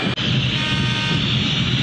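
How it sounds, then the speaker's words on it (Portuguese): Millonarios supporters blowing horns in a football stadium, a dense, loud, continuous honking blare that fills the whole moment over crowd roar. "Buzinando no ouvido corintiano a torcida do Milionários"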